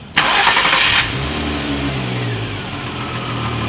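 A Volkswagen Scirocco with a swapped engine cranks briefly with a loud starter whir, then catches and settles into a steady, close idle rumble.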